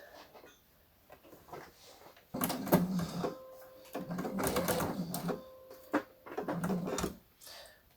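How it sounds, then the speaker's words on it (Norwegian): A home sewing machine stitches in three short bursts separated by brief pauses, its fast mechanical whirring and ticking close and clear against a quiet room. "og syr et par sting"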